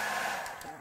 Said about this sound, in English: I'm going to go ahead and use a blow dryer to soften the chocolate once it comes to room temperature